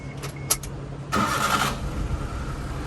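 Four-wheel-drive, fuel-injected Suzuki Carry mini truck, an old beater, starting up: a brief rattle and clicks, then the engine catches and settles into a steady, fairly quiet idle.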